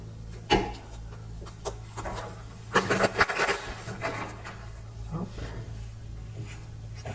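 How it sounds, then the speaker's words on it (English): A deck of cards is shuffled, soft rubbing and riffling that swells into a brief, louder flurry midway, quiet overall. "Shuffling from another deck."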